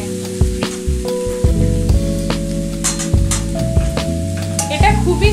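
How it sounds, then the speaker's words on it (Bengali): Salted, turmeric-rubbed snake gourd pieces sizzle in hot oil in a pan while a spatula stirs and scrapes them, a busy crackling fry with repeated clattering strokes and occasional metallic rings, close and loud. "তো দেখুন আমি চিচিঙ্গেটাকে ভালোভাবে নেড়ে নিচ্ছি।"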